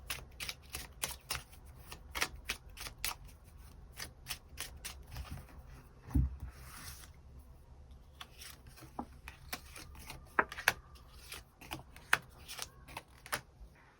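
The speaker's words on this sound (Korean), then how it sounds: "이 사람의 특징 추가 카드 뽑아보도록 하겠습니다" Tarot cards being shuffled before an extra card is drawn: rapid, close riffling and slapping bursts repeating throughout, with a few sharper taps.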